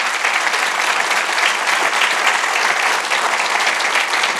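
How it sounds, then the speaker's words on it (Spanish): A church congregation bursts into sustained, dense applause at a worship service, a steady wash of many hands clapping close and loud from start to finish with no break. "Denle un aplauso al Señor."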